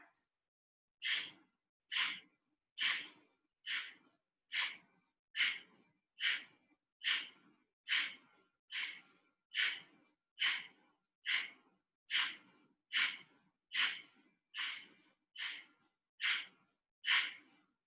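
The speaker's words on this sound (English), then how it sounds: "do 2 rounds of 20 breaths" Deep breathing exercise during a core power session: about twenty forceful, evenly spaced breaths in a steady rhythm, each a close, breathy rush of air, with silence in between.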